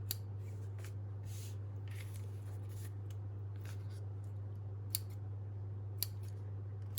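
Scissors snip through paper while journaling cards are trimmed, giving a series of faint, irregular close cuts over a steady low hum, with no talking.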